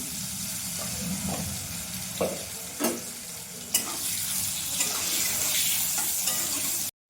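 Potatoes fry in hot oil with a steady, close sizzle, and a few sharp clatters come from stirring in the pan. A Bengali home kitchen, no one speaking.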